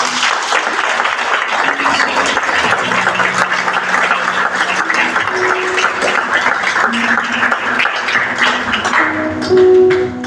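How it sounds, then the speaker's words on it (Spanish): A church congregation applauding steadily for about ten seconds, dense and loud clapping from many hands filling the room, with a faint musical tone underneath. "Bríndale un aplauso al Señor"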